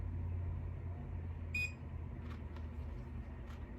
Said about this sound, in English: Leave it in till it beeps.